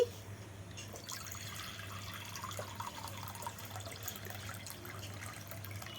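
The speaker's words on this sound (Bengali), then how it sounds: "এই বাটিতে আমি এখন জল নিয়ে নিচ্ছি" Water runs from a tap into a bowl in a kitchen, a soft continuous trickling and splashing with a faint low hum underneath, close and fairly quiet.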